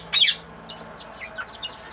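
Young parrots in an aviary, including a pale green young ringneck parakeet, give one loud harsh squawk and then several faint, scattered chirps.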